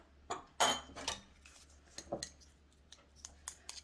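Soft clinks and scrapes of a spoon working pollock roe with garlic, mirin and sesame oil in a small bowl, a few close, quiet clatters spread through a hushed kitchen.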